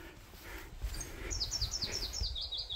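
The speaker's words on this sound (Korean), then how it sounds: "이렇게 지금 새소리도 되게 좋은데요" Birds singing along a mountain ridge trail among pine trees near Daecheongbong peak in Seoraksan in June, with a rapid series of high repeated chirps in the second half over soft footsteps and ambient rustle.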